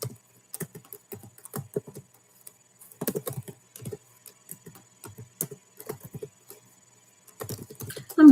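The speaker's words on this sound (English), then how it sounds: "I'm just typing all these jeans out that I can see." Someone types on a computer keyboard in quiet, irregular bursts of close, crisp clicks separated by short pauses, with no voices.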